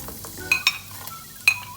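Crushed ginger, garlic and chopped green chilli sauté for vegetable fried rice, giving a soft, quiet sizzle punctuated by a few sharp metallic clinks of a spoon against the pan.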